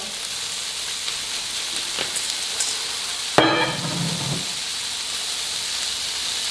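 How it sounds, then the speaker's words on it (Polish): Bacon frying in a pan gives a steady sizzling hiss throughout, with a brief sharper crackle and stirring scrape midway, close and continuous with no talk. "Trzeba dobrze przysmażyć ten boczek właśnie, żeby nie był taki na wpół surowy."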